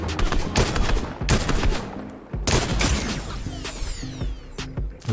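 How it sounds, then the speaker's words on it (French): Rapid bursts of gunfire crackle and rattle in a Fortnite match, coming in dense, loud volleys with a short lull partway through and mechanical clicking between the shots. "Ça tire là-bas. Même là, ça tire aussi."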